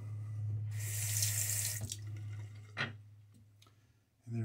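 Tap water runs into a sink for several seconds while a Gillette Tech razor is rinsed, a steady broad splash under a low hum that stops abruptly, followed by a few faint clicks and a short burst at the end.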